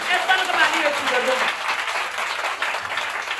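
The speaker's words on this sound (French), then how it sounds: "Acclame très fort Jésus" A church congregation applauding during a Friday sermon, a dense burst of clapping with crowd voices and cheering mixed in, fading slightly toward the end.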